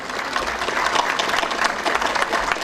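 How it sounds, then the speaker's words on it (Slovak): An audience at a Pilisszántó Pávakör folk choir performance in Bánk claps loudly and steadily, a dense, close burst of applause filling the whole moment. "zatleskajte riadne"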